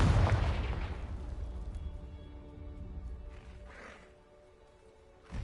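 A Confringo blasting curse goes off in Hogwarts Legacy, a loud low booming burst at the start that rolls and fades over several seconds, with a softer swell midway and a sharp thump right at the end.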